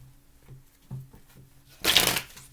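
Tarot cards shuffled by hand in a quiet room: a few soft taps and flicks, then one loud, crisp riffle of the deck close by, with no talking.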